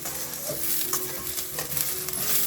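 Chopped onions sizzle and fry steadily in a pan while being stirred now and then, a soft, continuous crackle close by with no voices.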